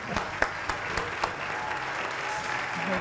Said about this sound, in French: Allez, applaudissements.